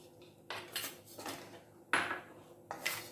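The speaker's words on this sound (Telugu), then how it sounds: "ఇప్పుడు ముందుగా బాండీ పెట్టుకొని మనం ఇవి ఒక్కొక్కటిగా వేయించుకుందాం." A metal pan being set down and handled on the stove before dry-roasting peanuts, several close clanks and scrapes of metal cookware in irregular bursts, with no talking.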